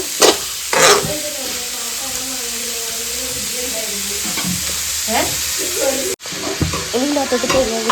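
Grated coconut roasting in hot oil, with a steady loud sizzle and scraping stirs, plus a few clattering knocks and brief voices in the background.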